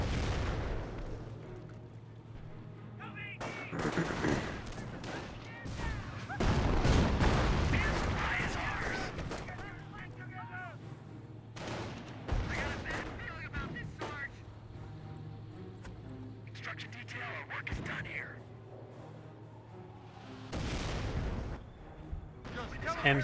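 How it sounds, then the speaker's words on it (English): A howitzer artillery barrage in a Company of Heroes 1 match between US and Wehrmacht forces: repeated heavy booms and shell blasts, some loud and close, others distant rumbles, under continuous commentary. "the howitzer barrage maybe trying to hit the stew"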